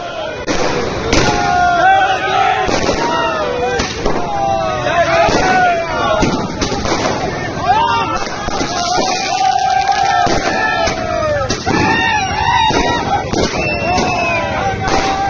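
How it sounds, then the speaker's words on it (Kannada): Firecrackers burst in rapid irregular volleys at a street celebration of Team India's Champions Trophy cricket win at a city circle, loud and close, mixed with crowd cheering and shouting voices throughout. "ಸಿಹಿ ಹಂಚಿ ಪಟಾಕಿ ಸಿಡಿಸಿ ಸಂಭ್ರಮಿಸುತ್ತಿದ್ದಾರೆ."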